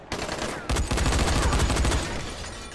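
Enemies open fire in the video game Dying Light, a dense, loud burst of overlapping shots that lasts over a second before easing off, with no talking.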